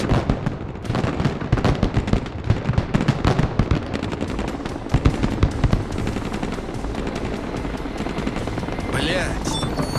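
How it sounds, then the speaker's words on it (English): Mortar explosions and rapid gunfire in the Broken Arrow war video game, a busy barrage of sharp cracks and booming blasts in uneven bursts, followed by a steadier roar of battle near the end. "That was close. Damn mortars."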